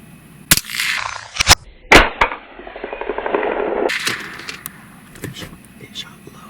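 Loud, sharp gunshot reports crack out during a nighttime thermal hunt in South Texas, with a few abrupt bangs close by and hushed whispering voices between them.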